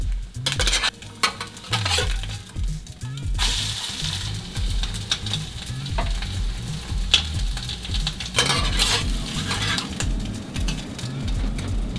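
Eggs frying on a portable hot plate, a continuous crackling sizzle with repeated scraping and clinking of a utensil against the pan throughout, no talk.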